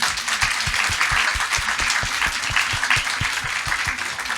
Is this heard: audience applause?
yes